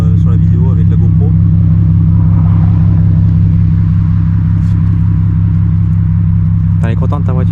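Volkswagen Golf 5 R32 engine idling with a deep, steady, loud rumble, heard close by as people talk briefly over it at the start and end.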